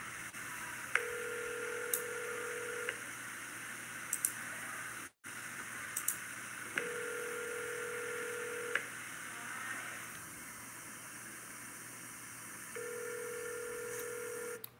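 A phone call placed to the Fulton Police Department: close, clear electronic tones sound in three separate beeps spaced several seconds apart, with faint clicks and a sharp dropout partway through, over low line hiss and no speech.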